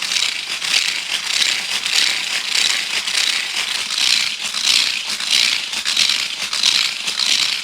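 Weighted smart hula hoops from Kmart and Des Moines whir loudly as they spin, a steady rattling hiss that pulses in a regular rhythm about twice a second, close and continuous with no talking.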